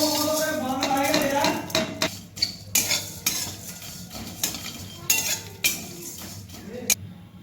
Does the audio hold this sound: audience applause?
no